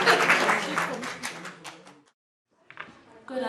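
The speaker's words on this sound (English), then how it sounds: "Let's give them a round of applause." Applause at a plenary session for commission reports, with loud clapping at first that thins out and stops, then a short silence before another burst of sound starts near the end.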